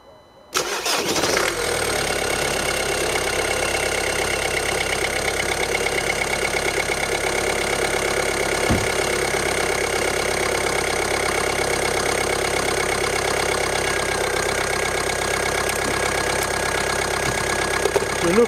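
A Ford Focus Mk3 1.5 TDCi diesel engine cranks briefly, catches and settles into a loud, steady, slightly clattery idle heard up close for the rest of the stretch, with no talking.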